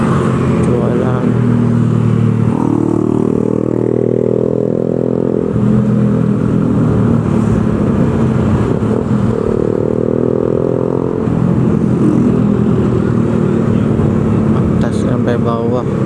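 Heavy, jammed traffic on the road from Kelapa Gading toward Depok: a loud, constant drone of car and motorcycle engines, with engines revving and rising in pitch now and then, and a person talking over the noise.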